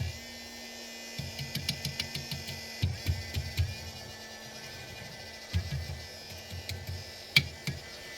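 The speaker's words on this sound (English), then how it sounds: "This motor here just started making noise." A small 3D printer motor buzzes and whines in short, stuttering bursts with quick ticks, close by and moderately quiet, pausing briefly between runs.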